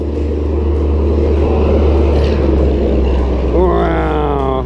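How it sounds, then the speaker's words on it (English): Heavy trucks rumble past on a road near a bridge, a loud continuous low roar that swells and fades, with a rising engine whine near the end. "Boy, you guys are gonna hear some trucks come by."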